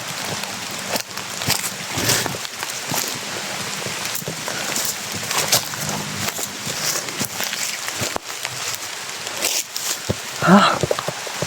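Steady outdoor rain falls throughout, a dense close patter on surfaces with occasional louder drops and knocks, while someone speaks now and then over it.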